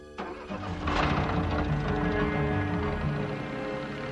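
An old jalopy's engine cranks and catches, then keeps running with a rough, steady rumble, fairly close and loud over a faint tonal background.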